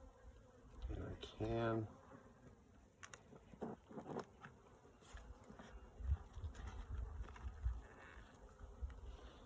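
Honey bees buzzing around an opened hive, a close, fluctuating drone with louder passes as individual bees fly near, while a few words are spoken early on.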